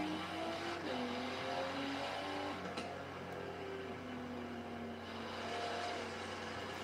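A loud car engine in the racing game Forza Horizon 3 drones steadily, its pitch rising and falling slightly as the car is driven, with no talking over it.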